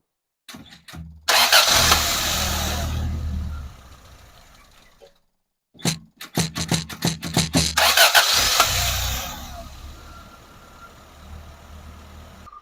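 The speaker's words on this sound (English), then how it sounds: "We're going to be doing a cold start and see if this thing takes a while to crank" A Toyota AE86 with a 4A-GE engine cranks on a cold start: two attempts of rapid starter whirring that catch into a loud, rough rev, then settle to a steadier idle, heard up close.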